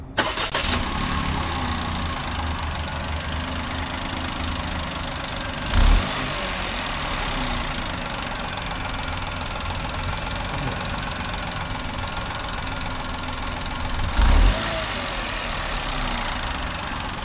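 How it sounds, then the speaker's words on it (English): A 2022 Perodua Ativa compact crossover with a turbocharged engine and DCVT gearbox settles into a steady, even idle, heard up close and alone, with two brief louder bumps breaking the drone. "Let's hear this engine."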